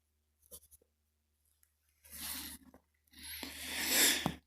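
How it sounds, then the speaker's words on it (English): Pen strokes on paper come in two longer bursts after a few brief scratches, close and quiet, scraping softly with pauses between. "I'm writing down from another piece of paper that you don't see right now."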